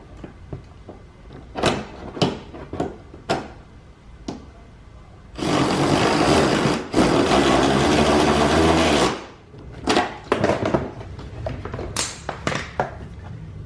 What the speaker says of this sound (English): so we've got our number 10 bolt started. Now we'll tighten it up.